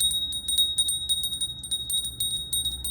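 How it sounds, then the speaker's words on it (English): A small bell rung to open an astrology reading chimes in quick repeated strikes, bright ringing tones that overlap and linger close up, with no talking. "So let's start with the bell."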